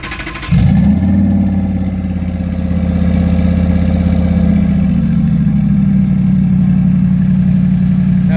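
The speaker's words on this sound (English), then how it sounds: "I'm sure they want to hear how this twin turbo sounds." A twin-turbo 5.0 Coyote V8 swapped into a 1951 Ford F1 truck, without an exhaust fitted, starts up with a sharp catch and settles into a loud, steady, rumbling idle close by.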